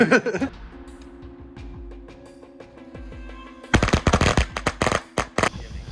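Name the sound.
reel of firecrackers going off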